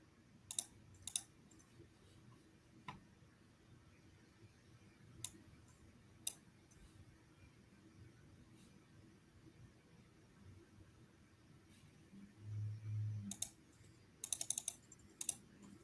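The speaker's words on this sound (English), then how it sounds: "You're doing a lot of clicking over there." Mouse clicking and keyboard typing at a computer during a live futures trading session: sparse, sharp clicks and taps spread over a quiet room hum, with a short burst of denser clicking near the end.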